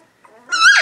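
A three-week-old puppy gives one weak, high-pitched bark that rises out of quiet, a short thin yelp close by, preceded by faint soft whimpering.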